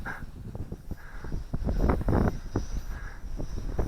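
Steady wind rushes and buffets across an MJX X400 drone in flight on a windy day, a continuous broadband roar with gusts swelling in the middle, close and fairly loud with no voices.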